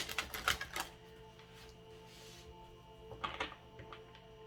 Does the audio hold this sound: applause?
no